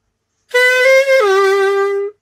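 A little saxophone sustains one long note, tongue pressed against the reed, that steps down slightly in pitch partway through. It sounds close and steady, alone for about a second and a half.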